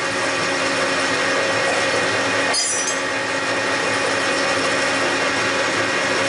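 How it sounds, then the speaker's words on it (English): An old Soviet-made metal lathe cuts a spare arbor for a milling machine, a loud continuous mechanical whir with gear noise and a faint high squeal of the tool, running steadily without talk. "now I do it on the USSR lathe"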